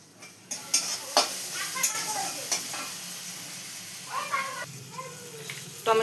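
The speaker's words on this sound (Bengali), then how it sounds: "পেঁয়াজটা লাল লাল করে ভেজে নিয়েছি, টমেটোগুলো দিয়ে দিলাম এর মধ্যে।" Tomatoes added to onions fried until red sizzle in a pan while a spatula stirs, with scraping and clinking against the metal, a few sharp knocks, and faint cat-like mewing sounds in the background.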